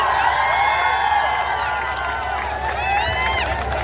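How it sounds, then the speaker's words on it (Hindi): A large crowd at a poetry gathering (kavi sammelan) in Prayagraj cheers and whistles to welcome poet Kumar Vishwas, a loud continuous roar with sustained whoops and shrill whistles over steady applause. "जोरदार तालियों से स्वागत करिए डॉक्टर कुमार विश्वास जी का।"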